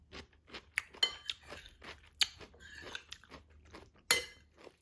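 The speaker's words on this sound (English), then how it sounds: "Chinese smashed cucumber salad that is absolutely delicious because of the crunch" Crisp, crunchy bites and chewing of Chinese smashed cucumber salad with garlic, a series of sharp close-up crunches at irregular intervals with no talking.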